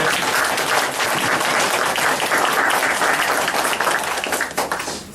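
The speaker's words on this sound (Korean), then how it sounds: "박수로 좀 맞아주세요" An audience at a lecture on Oriental medicine breaks into loud, sustained applause that fills the room for several seconds and tapers off at the end, with no talking over it.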